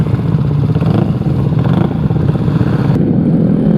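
A green Vespa Sprint scooter with a tuned 124 cc engine on a test run, revving hard and steadily close up, its engine buzz filling the whole stretch with a slight clatter and no talk.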